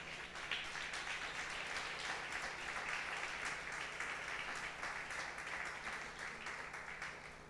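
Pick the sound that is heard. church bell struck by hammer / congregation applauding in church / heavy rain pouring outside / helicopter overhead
congregation applauding in church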